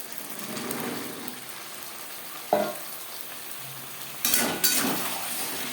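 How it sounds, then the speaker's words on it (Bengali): Potatoes fry and get stirred in spices in a pan before pointed gourd goes in for a Bengali vegetarian curry, a soft continuous sizzle broken by a few sharp spatula scrapes and clatters. "মশলার সাথে দু তিন মিনিট আলু নাড়াচাড়া করে নেওয়ার পর দিয়ে দেবো টুকরো করে কেটে রাখা পটল"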